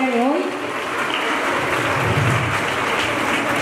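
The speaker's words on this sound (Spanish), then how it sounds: "Vamos a dar otro fuerte aplauso al taller de danza folclórica" A school audience at a folk dance rehearsal claps for the folk dance workshop, a steady, dense patter of applause that begins just as a brief voice trails off and continues evenly to the end.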